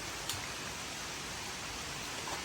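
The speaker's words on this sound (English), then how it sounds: "because now it's storming pretty bad." Heavy rainstorm pouring outdoors, a steady dense hiss of rain that stays level and unbroken throughout, with no voices.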